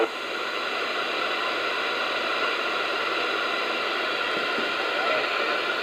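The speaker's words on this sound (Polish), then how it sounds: "odbieram Krzysztofa na granicy szumów, ale jest czytelny" Steady, loud hiss of radio static fills the whole stretch on weak amateur radio reception, an even broadband noise with faint tonal whines and no clear voice coming through.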